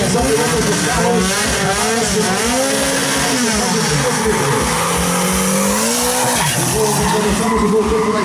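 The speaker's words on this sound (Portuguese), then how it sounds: "Começamos o gol turbo da equipe Viola, vai se embora na pista do lado esquerdo." A turbocharged Volkswagen Gol drag car launches down the strip at a Brazilian drag racing event, tires squealing and engine rising in pitch through gear changes, loud and continuous, with an announcer talking over it.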